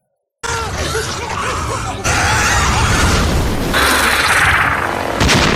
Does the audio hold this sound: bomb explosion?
yes